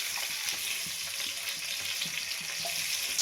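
Onions with salt sizzling in a hot pan, a steady bright crackle of frying with soft scraping stirs underneath, close and continuous.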